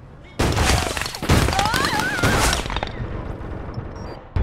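Shotgun blasts in the online shooter APB Reloaded, several loud booming shots in quick succession with sharp bursts and ringing tails, the firing dying away toward the end.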